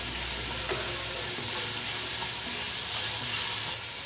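Capsicum and pepper are stirred in a hot frying pan for egg bread chilli, giving a steady loud sizzle with scraping stirs throughout and no talking.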